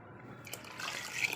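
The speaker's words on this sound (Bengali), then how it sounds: "অল্প একটু জল দিয়ে বাটিটাকে ধুয়ে দিলাম" Water poured from a small bowl into a pot of mung dal, rinsing the bowl out; a soft, brief trickle and splash with a light drip, close and quiet, with no talking.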